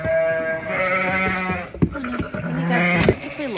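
Several sheep in a shed bleat loudly at close range, overlapping calls rising and falling over a few seconds with a brief thump in the middle.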